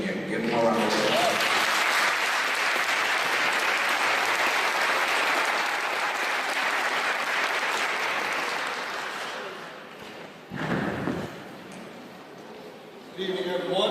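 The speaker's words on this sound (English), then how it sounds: "Give him a round of applause." A graduation audience applauds a guest speaker with a long, full burst of clapping that gradually fades, followed by a brief pause and a voice beginning to speak.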